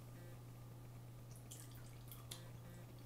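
Red Bull Red Edition energy drink is poured from a can, a very faint fizzy trickle with small splashy bursts partway through.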